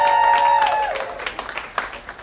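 Applause from married audience members at a comedy club: scattered clapping that starts loud and then thins into uneven individual claps, with a faint tonal hum at the start.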